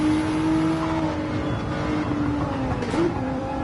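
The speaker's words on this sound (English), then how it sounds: "We're going to listen to his engine." An in-car recording of a Cup Series race car's engine during a 300-lap race. A loud, continuous engine drone shifts in pitch as the car revs and carries through the corners, with no talking.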